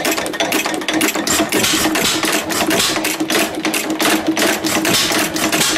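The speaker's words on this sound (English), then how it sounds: "So if I push down here, hold it down, it'll just keep firing." Old stationary engine running close by with a rapid, clattering, mechanical beat of firing strokes and rattling valve gear, continuous and loud throughout.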